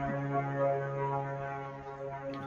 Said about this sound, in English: there's just planes flying by. Oh, just sounds like a foghorn.